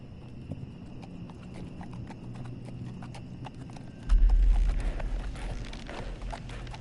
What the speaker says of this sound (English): It's that dream sequence again with the horse.